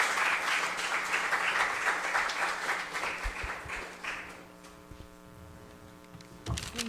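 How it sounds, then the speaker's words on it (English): Forum audience at an Indigenous Peoples' Resistance Day event claps for a panelist, a dense round of applause that fades out after about four seconds, leaving a low electrical hum and a few scattered claps. "A round of applause for Ms."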